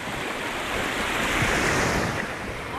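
Sea waves breaking on the long, shallow sand shore of Kalamaki Beach on Zakynthos, Greece, a steady rushing wash of surf with some wind buffeting the microphone, continuous and fairly close, with no voices.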